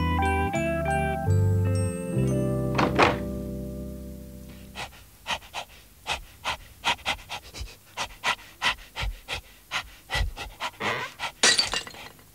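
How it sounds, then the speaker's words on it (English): A dog knocks over a magician's things, setting off crashes, breaking and shattering glass with tinkling, all over loud rapid panting. Music plays at first, then a string of sharp smashes follows in a quick uneven rhythm. "Just what I needed, said the magician as the dog knocked over his things."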